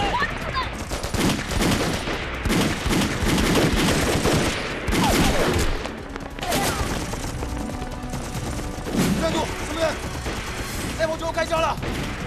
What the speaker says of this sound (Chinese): 开枪了！